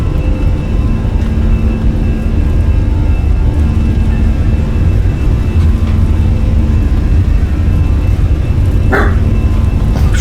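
A small pet dog barks a few times indoors, briefly and fairly close, over a steady loud drone of airliner engines from an Airbus A320 flight simulator departing Alicante.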